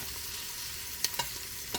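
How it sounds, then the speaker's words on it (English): Bacon and onions fry in a pan with a soft, constant sizzle, punctuated by a few short clicks of stirring utensils. "I'm going to cook the bacon and onions to a light brown stage"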